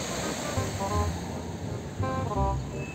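Ocean waves wash against the shore at the edge of the Pacific, a steady broad rush of surf with swelling surges, moderately loud, with faint voices and rain in the background.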